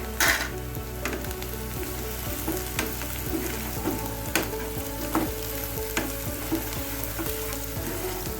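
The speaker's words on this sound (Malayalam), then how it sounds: "നമുക്കൊരു ബ്രൗൺ കളറാവുന്നത് വരെ നമുക്കത് വാട്ടി കൊടുക്കാം" Shallots sauté in oil in a pan for a chammanthi, a close, constant sizzle and crackle broken by regular scraping stirs.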